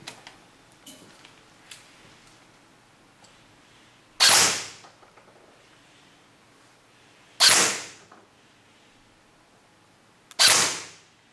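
A Tokyo Marui M4 airsoft rifle running on a 7.4 V Li-po battery fires BBs in three loud, sharp bursts spaced roughly three seconds apart, with no talking.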